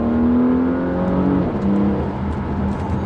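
A Porsche Panamera Sport Turismo eHybrid on a road: the engine note drops through a downshift into third, a steady close whirring drone that steps lower in pitch partway through, with no talk.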